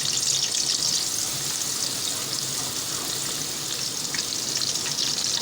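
Onions fry in hot oil in a pan, making a continuous bright sizzle and hiss up close, steady from start to finish with no talking.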